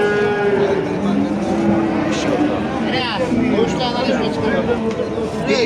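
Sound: cattle mooing at livestock market

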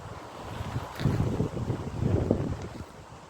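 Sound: strong wind by a lake

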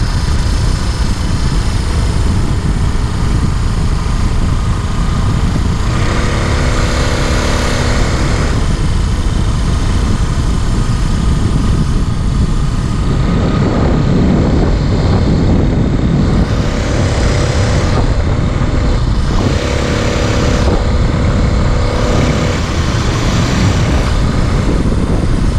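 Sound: motorized fat bike beach cruiser engine running on choke

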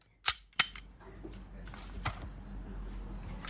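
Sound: BLOW C75 CZ blank gun firing shots

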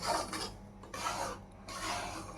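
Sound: stirring semolina roasting in a pan for karanji

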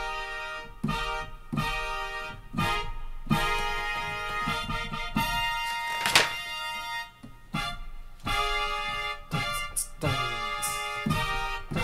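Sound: synthesizer brass sound

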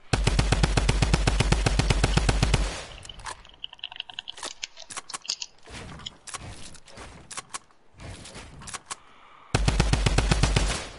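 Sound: gunfire in a video game

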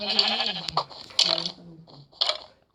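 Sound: sheep bleating in Minecraft video game

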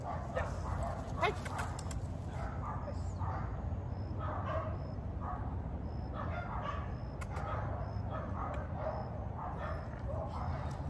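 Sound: dogs barking in the background

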